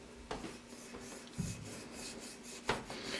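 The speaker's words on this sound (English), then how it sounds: "you'll probably go through quite a bit of sandpaper here" Hand sanding a South Bend metal lathe ID tag with sandpaper, producing faint, steady rubbing strokes with a few louder scrapes, close by and with no talking.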